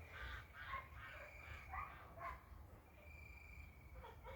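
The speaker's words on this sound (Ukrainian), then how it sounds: "десь гуси кричать" Geese honking in the distance, a few faint repeated calls carried over a low steady rumble of outdoor background noise.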